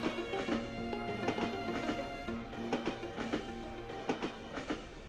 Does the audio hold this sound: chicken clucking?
no